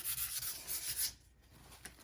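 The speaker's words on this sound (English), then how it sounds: "I'm just gonna do another quick little sanding." Quick light sanding across the surface of a painted sign, a steady broad rubbing rasp for about a second before easing off, with a faint stroke near the end, close and alone.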